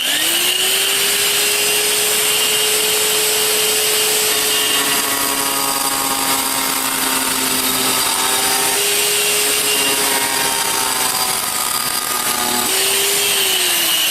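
A power tool fitted with a cutting disc cuts material in a long continuous run, its high whine holding steady with slight pitch dips as the disc bites, loud and close with no talk.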